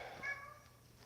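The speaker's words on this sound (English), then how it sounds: "that's a CGI meow over there" A cat's meow, a single short harmonic cry with a rising then falling pitch, close and fairly clear against a quiet room with no talk.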